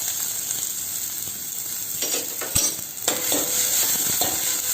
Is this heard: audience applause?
no